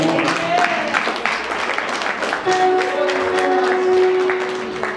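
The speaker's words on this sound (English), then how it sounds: "Can you clap for Jesus?" A church congregation claps for Jesus in a steady burst of applause, with a sustained tone and voices mixed in under the clapping.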